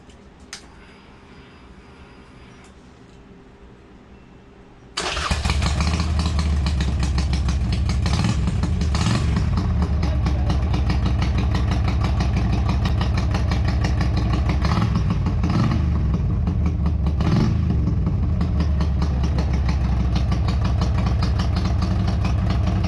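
A 2008 Harley-Davidson Sportster 883C with a Crusher slip-on exhaust fires up after a few quiet seconds, then settles into a loud, steady, lumpy idle that rumbles on close by with no talk over it.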